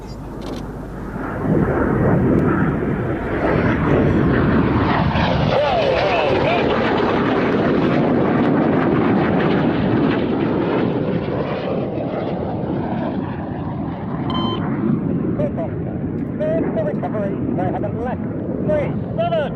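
Red Arrows jets flying an aerobatic formation display with coloured smoke trail overhead in a loud, sustained engine roar that rises and sweeps past with a shifting pitch, accompanied by commentary and wind buffeting on the microphone.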